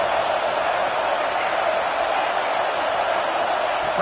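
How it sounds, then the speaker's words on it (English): Loud crowd roar in the NCAA 25 college football video game during a 4th down play, a dense, constant stadium wash of cheering that holds steady throughout with a commentator's voice faintly under it. "The crowd is loud, hoping for a 4th down stop."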